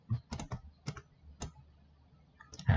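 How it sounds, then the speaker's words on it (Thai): A Ctrl key is held down while a computer mouse clicks, making a handful of sharp, close, quiet clicks spaced irregularly over a few seconds. "กดคอนโทรลค้างไว้เช่นเดียวกันนะครับคลิกเมาส์1ครั้งนะครับ"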